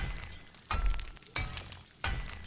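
Glass breaking in the video game 7 Days to Die, three sharp shattering crashes spaced about two-thirds of a second apart, each with a brief tinkling tail, with no voices over them.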